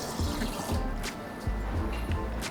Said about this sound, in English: we're gonna put a little water in there